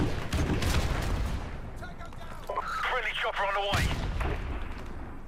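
Grenade blasts and gunfire rumble loudly in Call of Duty Modern Warfare Remastered, dense booming bursts layered with sharper crackling shots, under a player talking.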